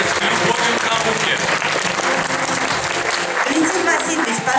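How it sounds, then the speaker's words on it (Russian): An audience at a professor's jubilee celebration breaks into steady, sustained applause filling the hall, with a voice audible over the clapping. "Давайте же аплодисментами поприветствуем человека, жизнь которого проходит с любовью к науке."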